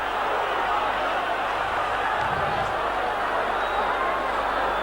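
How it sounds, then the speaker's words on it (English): The crowd at a 1985 Wigan v St Helens rugby league match reacts to a referee's offside decision, a loud, steady roar of many voices that fills the whole stretch, with a commentator talking over it. "Crowd not happy with that decision."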